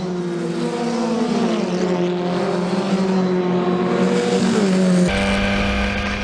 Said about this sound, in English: So here comes Cameron Jackson to pass them both into Beckett, and he gets the lead